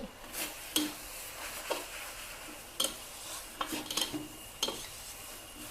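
Pad Thai rice noodles stir-fried in a pan, with soft steady sizzling broken by sharp scraping and clinking strokes of a spatula against the metal every second or so.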